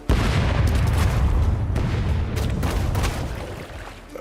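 Ship cannons firing in the pirate game Rogue Waters, heavy booming blasts rolling into one another with a rumbling tail, loud and close with no talk.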